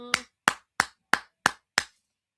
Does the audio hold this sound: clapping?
yes